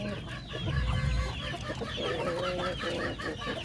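Hens cluck and chatter in a coop, several birds close by making busy, overlapping clucks and squawks throughout.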